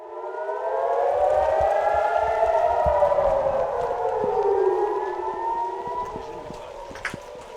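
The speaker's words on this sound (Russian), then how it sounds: "Одна из них застала нас прямо в процессе съемок." A civil defense rocket alert siren wails across Kiryat Shmona in northern Israel, loud and sustained, its rising and falling tones overlapping as it echoes through the town, with faint clatter underneath.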